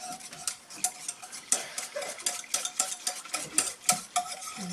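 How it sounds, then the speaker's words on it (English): Elderberry and goji berry syrup mixture being whisked in a bowl, giving a steady run of quick, close scraping and clinking strokes with a faint wet swish and no talking. "let me make sure it's all blended in well."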